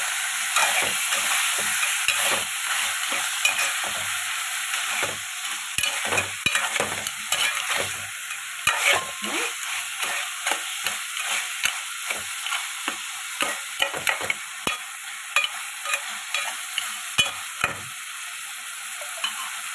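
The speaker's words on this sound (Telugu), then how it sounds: "అల్లం పేస్ట్ వేసి తిప్పుకోవాలి" Crab curry with ginger paste being stirred in a hot pan, a continuous sizzle of frying broken by frequent scraping strokes of the spoon against the pan, close and with no talking.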